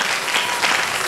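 Loud, dense applause from a congregation at a Sunday worship service, continuous clapping filling the whole moment with no pause.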